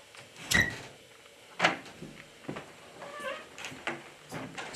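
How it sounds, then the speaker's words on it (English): An old door creaks open in a house in Kansas during a paranormal investigation: a few drawn-out squeaky groans, close and fairly quiet, separated by pauses with faint room noise. "Scary, creaky door."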